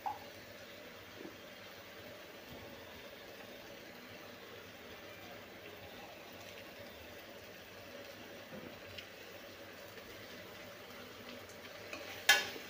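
Green chillies and tomatoes sautéing in a pan for soya chunk dum biryani give a steady, soft low sizzle with faint stirring scrapes, ending in a brief louder clatter of utensils.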